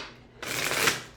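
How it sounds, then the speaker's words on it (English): A deck of tarot cards is shuffled briskly at close range in one loud riffling burst lasting about a second, after a quiet start. "Let me shuffle them up real good."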